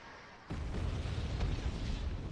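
Bomb explosion in the strategy game Wargame Red Dragon: a sudden low boom that breaks in after a quiet moment and rolls on as a dense, rumbling roar to the end.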